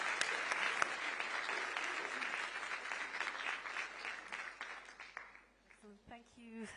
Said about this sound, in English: Please join me in giving wonderful applause